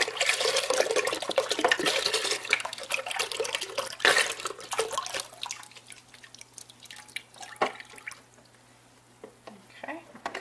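Liquid pours from opened cans into a slow cooker of vegetable beef soup: a dense, splashy gush for about five seconds, then thinning into scattered drips and small spatters that fade toward near silence.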